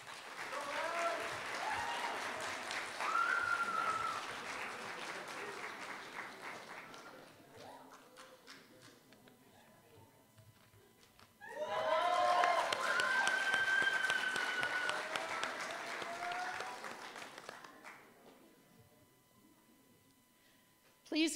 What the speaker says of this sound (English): Please join me in giving a warm round of applause for our new Practical Nursing Certificate recipient.